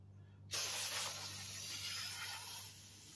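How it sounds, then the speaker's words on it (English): A steady aerosol hiss of brake parts cleaner sprayed on a greasy power steering line starts abruptly and runs for a couple of seconds before easing off, close and fairly loud over a low background hum. "we're gonna get some brake port cleaner and we're gonna try to spray that down"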